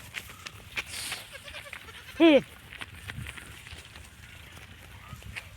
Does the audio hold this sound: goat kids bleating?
yes